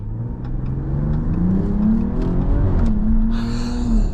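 Sustained, loud engine note from a 2025 Ram 1500 RHO pickup revving hard in sport mode while climbing a hill, rising in pitch through upshifts with brief dips at each gear change, no talk over it.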